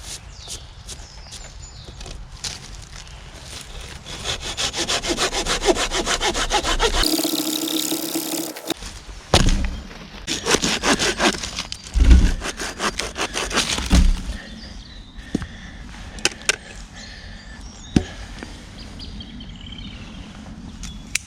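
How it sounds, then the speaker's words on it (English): A hand saw cuts a section off an oak log outdoors in damp woodland, rasping in steady back-and-forth strokes up close, with a short gap midway followed by irregular scraping and knocks. "So first we're going to cut off a section of this oak."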